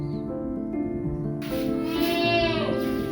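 Sapera goats on a goat milk farm bleat loudly and close by, with long wavering calls overlapping one another and no voices.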